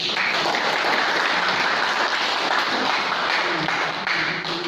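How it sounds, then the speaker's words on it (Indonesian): An audience claps steadily through the whole stretch, a dense, even burst of applause close by with no talk over it. "Ya, tepuk tangan."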